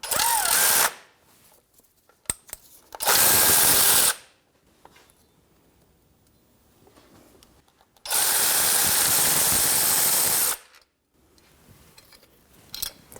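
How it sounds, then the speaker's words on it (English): An air tool backs out a starter bolt on a 1997-2006 Jeep Wrangler 2.4L L4, firing in two loud bursts of about a second and two seconds, with quiet pauses between them and some faint clicks. "Now with them loose, I can use an air tool."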